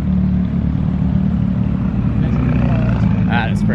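A Porsche Turbo sports car rolls past at a car gathering where other Porsche GT models and a McLaren 570S are nearby, giving a loud, steady engine rumble that rises near the end, with voices talking over it.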